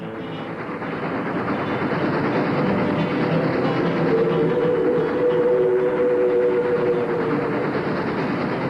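A rolling train effect plays as part of a song performance on a 1970 television show, a steady loud rumble and rattle that builds slightly and holds evenly, with a faint tonal line joining midway.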